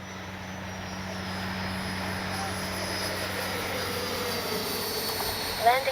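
An FMS 90mm Super Scorpion V2 RC jet flies overhead, its ducted fan giving off a steady, loud whine that holds for the whole stretch, with a voice heard over it.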